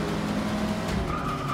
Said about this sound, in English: This guy's bumping me right there.